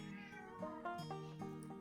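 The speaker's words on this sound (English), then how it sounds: "I think I have a hungry kitty. He's literally yelling at me." A hungry cat meows insistently up close, with several drawn-out, rising and falling yowls in quick succession and no talk.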